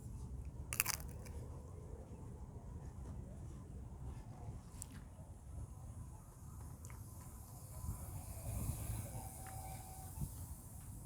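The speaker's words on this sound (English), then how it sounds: "I'm gonna eat this chip." Someone bites a tortilla chip with a sharp crunch, then keeps chewing softly and steadily up close at a Mexican restaurant meal, quiet and without talk.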